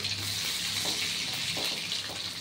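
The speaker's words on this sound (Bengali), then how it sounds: "এই যে আলুটা ছেড়ে দিলাম। আলুটা একটু ভাজা ভাজা হবে।" Salted boiled potatoes fry in a pan with a steady, close hiss and sizzle, alone with no talk.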